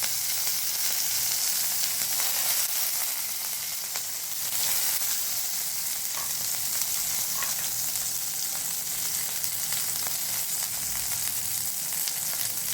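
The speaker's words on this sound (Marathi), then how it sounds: "इकडे आपण गॅसवर तेल टाकलेलं आहे, त्याच्यात मोहरी टाकायची, जिरे टाकायचे" Mustard seeds, cumin and chillies sizzle in hot oil in a pan on a gas stove, a steady crackling fry with faint pops and stirring, continuous and close, with no voices.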